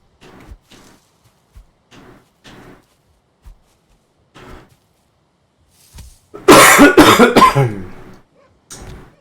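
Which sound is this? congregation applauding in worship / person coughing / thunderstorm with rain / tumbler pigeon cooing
person coughing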